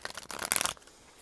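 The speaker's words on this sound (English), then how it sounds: "I'm going to get 2 more shuffles." A brisk riffle of tarot cards being shuffled close by, a short dense flutter that stops abruptly.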